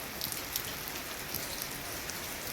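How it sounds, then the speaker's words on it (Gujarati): Steady rain pours down, a dense close hiss of drops on surfaces with occasional sharper patters, continuous and without any voices. "આજ તો હવારાનો વરસાદ ચાલુ છે"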